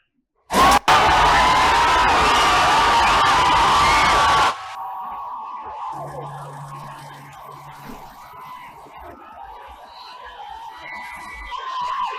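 A large crowd rushes toward a helicopter helipad during YS Jagan's tour, with loud, dense shouting and cheering for the first few seconds before dropping to a distant, murmuring crowd hum.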